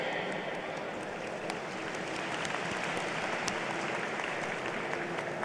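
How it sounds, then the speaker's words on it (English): At the 2009 WCG Grand Final closing ceremony, a large audience applauds the guests in a steady, dense roar of clapping, distant and even throughout, with scattered sharper claps standing out. "Please give all the guests a warm round of applause"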